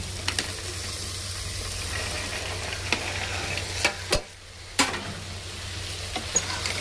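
Carrot, beans, potato, peas and mushroom sizzle steadily in a pan while being sautéed for mushroom biryani, with a few sharp clicks of a stirring spoon against the pot.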